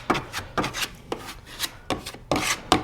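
Green filler is smeared into scratches and holes with short, scraping strokes, about eight rasping swipes in an uneven rhythm, close and clear with no talk.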